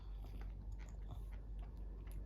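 A child chews soft Yupi gummy candy with the mouth closed, making faint, close, continuous wet mastication sounds with a few small bites, quiet and alone.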